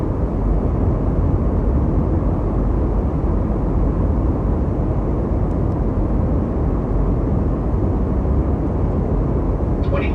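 Airbus A220 airliner on landing approach with flaps configured, in a flight simulator, giving a steady, loud broadband roar of engine and airflow noise that holds constant throughout, with no voices.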